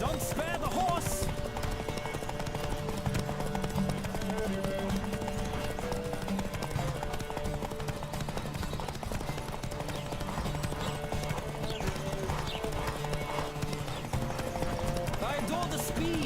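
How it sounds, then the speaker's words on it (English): Racing horse gallops in The Witcher 3, a rapid steady clip-clop of hooves with an occasional whinny, running continuously under game music and spoken lines. "Don't spare the horse!"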